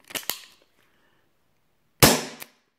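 Two sharp pops from a GSG Diana Raptor .177 CO2 air pistol with a 4-inch barrel, close together, a pause, then another pair of loud shots near the end.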